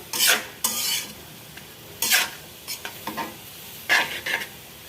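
Green capsicum being fried and stirred in a pan for restaurant-style fried rice, with several loud bursts of scraping and sizzling separated by quieter pauses.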